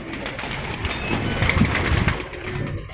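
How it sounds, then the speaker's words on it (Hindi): Racing pigeons from a tournament-winning rooftop loft coo softly and close by, low throaty calls under a dense, noisy outdoor background. "ये कबूतर आपके सामने"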